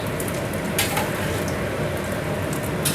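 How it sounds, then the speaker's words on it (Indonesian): Wet anchovies frying in hot oil until crispy, a steady dense sizzle and crackle running close and continuous throughout, with no talk over it. "Tak goreng dulu. Goreng sampai garing kayak gini."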